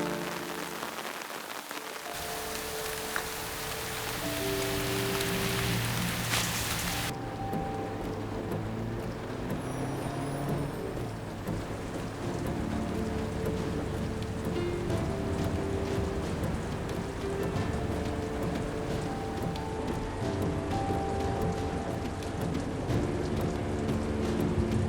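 A heavy rainstorm pours down in a dense, steady hiss with rumbles of thunder, while a faint musical score plays underneath throughout.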